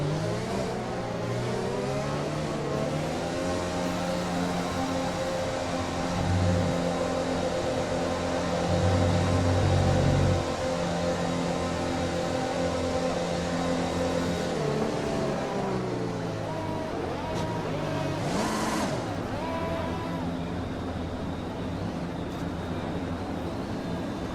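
Formula 1 cars drive the formation lap in the F1 2020 racing game: a continuous, layered engine drone with pitch shifts and a louder revving swell midway. No one speaks.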